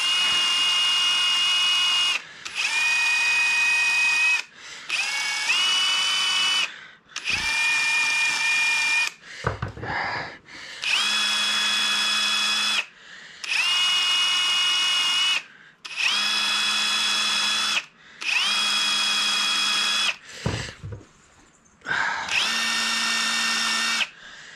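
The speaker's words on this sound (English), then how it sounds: "got a little wire brush on my drill driver, just give them a buff, get any oxidation off of there" A drill driver with a wire brush buffs oxidation off metal battery busbars in repeated bursts, each several seconds long, with short pauses between and a high buzzing whine as the brush spins.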